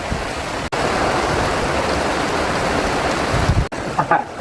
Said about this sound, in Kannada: ಆಕ್ಚುಲಿ ಇಲ್ಲಿ ಮಳೆ ಬರುತ್ತಿದೆ